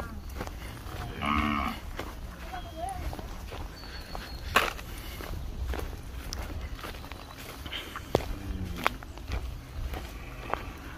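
Cattle on a Vietnamese farm lowing: one clear moo near the start and another fainter moo around the middle, with footsteps and shuffling noises through the rest and no talk.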